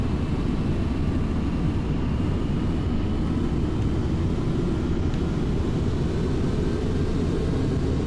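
A simulated Hawker Siddeley Trident 2E jet roars steadily during takeoff in Flight Simulator X, a loud, dense low engine rumble holding constant throughout, with no talk.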